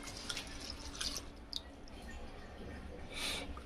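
Sorghum grains are washed in water, giving faint, soft sloshing and dripping sounds in a quiet room with a few small splashes.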